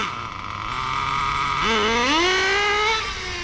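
A 1/10 scale nitro RC drift car, an HPI RS4 3 Drift, launches from a standing start, its small two-stroke engine rising from idle into a loud climbing whine that holds high and steady, close by with no talk.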